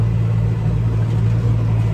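A Massey Ferguson 5712 SL tractor with a Gaspardo Maschio 3-metre rotary tiller runs steadily in a field, its deep engine drone humming close and loud at an even pitch with no speech.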